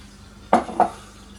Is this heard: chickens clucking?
no